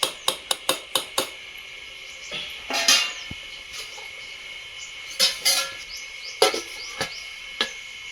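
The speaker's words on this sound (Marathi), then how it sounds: "हे झाकून ठेवायचं" Quick metallic taps at first, then scattered clinks and a rattling clatter as a lid covers a metal pot of mutton on a wood-fired stove, moderately close, without any speech.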